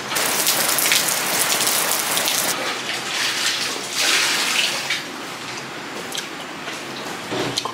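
Heavy rain pours steadily onto surfaces nearby, a loud, dense patter that swells and eases slightly across the stretch, with no talk.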